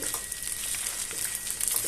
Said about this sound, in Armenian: Հիմա սա խառնենք, թողենք մի փոքր այսպես տապակվի և վերջ։